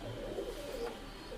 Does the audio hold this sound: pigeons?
yes